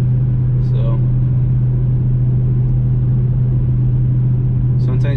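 Car with a 5th-gen drivetrain cruising on a highway at 80 mph in 6th gear around 2,000 RPM, giving a steady, loud low engine and road drone throughout, with a couple of brief faint noises near the start and end.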